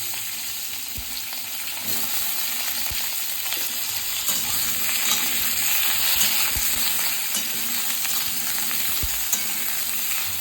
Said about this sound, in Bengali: আলু বেগুন একটু নেড়ে চেড়ে দিয়ে দিচ্ছি